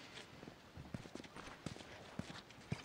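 Horse hooves clip-clop at a slow, steady walk in The Last of Us, faint and soft under a low background hum.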